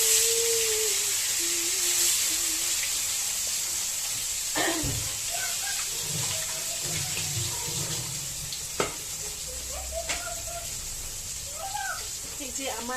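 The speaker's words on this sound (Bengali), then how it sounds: "এই যে আমার মাছ ভাজা হচ্ছে" Fish frying in a pan in a home kitchen, a steady broadband sizzle running throughout, with occasional clatters and faint voices talking in the background.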